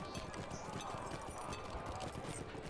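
Hooves clip-clop at a steady, quick pace as a horse is ridden through the city of Minas Tirith in the online game LOTRO, mixed with game ambience and faint voice.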